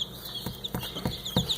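Straight-run bantam chicks about a week old peeping high and thin, with several soft clucking pulses close by and no talk.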